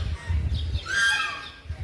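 A bird's high, sliding call rings out once near the middle, over low rumbling background noise, moderately distant.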